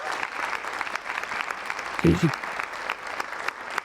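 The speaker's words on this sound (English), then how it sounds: "let's give them a big round of applause" An event audience applauds conservancy staff with steady, moderately dense clapping, and a brief voice rises from the crowd midway through.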